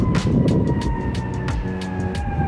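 Emergency vehicle sirens wail in the distance, held tones drifting over city traffic noise with intermittent sharp bursts, moderately loud and steady.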